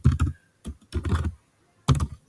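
Bursts of keystrokes on a computer keyboard while Java code is being typed, clattering clusters separated by brief pauses, close and clear with no talking.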